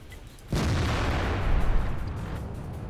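A tank gun fires in World of Tanks with a T110E3 on the Lakeville map, one sudden loud boom followed by a sustained rumbling roar that slowly fades, no speech over it.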